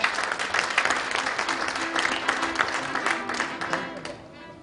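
An audience applauds at an inauguration ceremony for a Korean horse industry association, a steady crowd of hand claps that fades out near the end, with a voice briefly audible beneath it.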